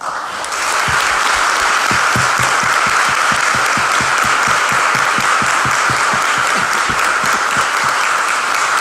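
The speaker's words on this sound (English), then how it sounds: "give Vita Lothe and Delegate Deborah Rodman a big round of applause." A crowd at a local Democratic political debate breaks into sustained applause, many hands clapping loudly and densely for several seconds, with some individual claps standing out near the front.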